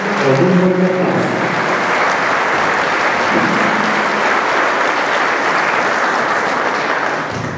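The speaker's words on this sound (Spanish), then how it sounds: "Lo recibimos con un fuerte aplauso" An audience at a government report event gives a strong round of applause welcoming the municipal president, dense sustained clapping with a few voices at the start, fading slightly near the end.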